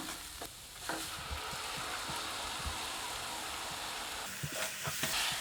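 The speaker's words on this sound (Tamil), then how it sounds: "இப்போ அரைச்சி வச்சுருக்கிற தக்காளி சேர்த்துக்கலாம்" Ground tomato goes into sizzling spiced paneer bhurji masala, a dense steady frying hiss with occasional soft knocks and stirring scrapes, close and continuous throughout.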